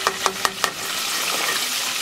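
Onion rings dropped into hot oil for deep frying, a few sharp clinks of a spoon on the pot at the start, then a steady bubbling sizzle, close and moderate.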